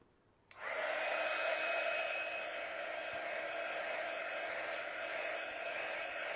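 A hair dryer switches on after a brief quiet moment and blows steadily and loudly at close range, drying a freshly decoupaged bunny print.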